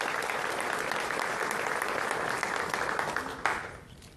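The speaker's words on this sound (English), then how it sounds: "Please, a round of applause for each and every one of you" A large audience claps throughout at a city State of the City address, a dense, steady wash of applause that fades out near the end.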